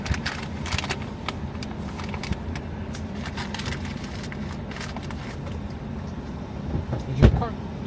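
A car engine runs with a steady low rumble, with scattered clicks and clatter and a louder knock near the end.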